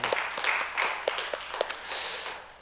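Church congregation applauds mothers at a Mother's Day Sunday service, a short burst of moderate clapping with sharper individual claps standing out, no talk over it.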